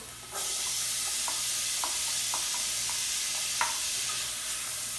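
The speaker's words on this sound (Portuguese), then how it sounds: "Após você colocar o alho, logo em seguida você já pode acrescentar a cebola." Garlic and onion fry in a pan, starting with a sudden loud sizzle that settles into a constant crackling hiss, while a spoon scrapes and stirs at intervals.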